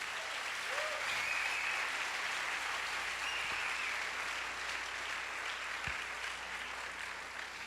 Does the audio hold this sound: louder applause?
yes